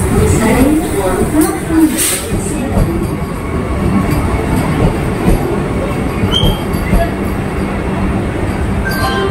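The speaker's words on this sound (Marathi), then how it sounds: "ट्रेन आली" The Madgaon Express pulls into Mumbai's Chhatrapati Shivaji Maharaj Terminus with a steady rumble and clatter of wheels, a brief squeal, and station noise around it, close and continuous.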